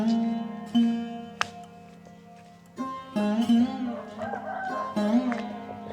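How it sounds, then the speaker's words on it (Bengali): Chickens cluck in a rural Malaysian village yard while a rooster lets out a loud crow nearby; sharp squawks and layered clucking come in bursts, growing busier toward the end. "কি সুন্দর মুরগির আওয়াজ শোনা যাচ্ছে।"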